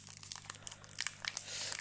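A foil trading card booster pack from the Rise TCG Candypocalypse set is crinkled and torn at, a quiet close-up series of sharp crinkles and small tearing bursts.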